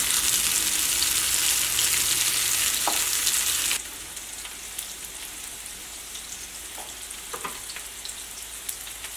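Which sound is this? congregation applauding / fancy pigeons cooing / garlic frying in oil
garlic frying in oil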